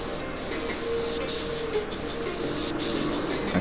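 An airbrush sprays paint with a steady close hiss, broken by short regular pauses as the trigger is released and pressed again, four or five bursts in a row.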